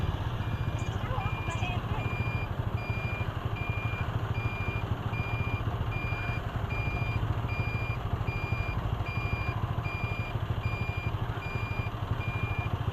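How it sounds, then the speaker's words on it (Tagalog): A truck sounds a steady series of evenly spaced reversing beeps over the constant rumble and idling of heavy street traffic, with engines droning close by and the beeps ringing clearly above the noise throughout. "Sobrang traffic ah."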